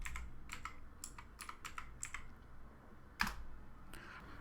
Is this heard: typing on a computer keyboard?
yes